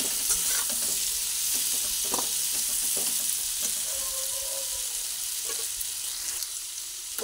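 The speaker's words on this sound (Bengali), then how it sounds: "পেঁপেও কিছুটা ভেজে নিলাম" Salted papaya fries in hot oil while being stirred: a dense, steady sizzle up close, broken by scattered scraping and clicking stir sounds, with no talking.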